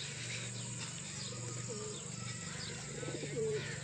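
Soft, low pigeon coos repeat under a steady noisy background hum in a village, with faint chirps scattered throughout.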